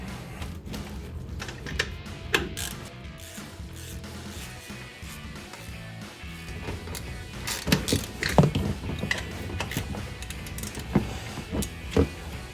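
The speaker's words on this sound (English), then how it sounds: "now we need to tighten down our upper strut bolts" A 15mm wrench tightens the upper strut bolts on a 2009-2018 RAM 1500 during a Bilstein front shock install, giving rapid ratcheting clicks and metallic taps at close range that grow busier toward the end.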